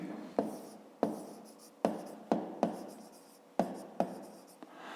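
A pen scratches out numbers on paper for a maths exercise, in short repeated strokes, each starting with a sharp tap and trailing off, close and fairly quiet with no voice.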